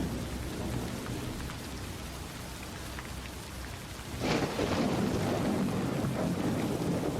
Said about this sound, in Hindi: बारिश की बूंदें भारी होकर जमीन पर गिर रही थीं